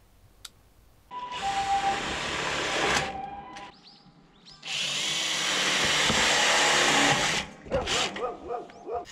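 A power screwdriver drives Tek self-drilling screws into a wood-stove chimney joint on a roof, in two long whining bursts separated by a pause, followed by a few short clicks.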